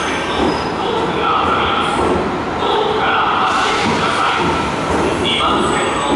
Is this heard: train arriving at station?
yes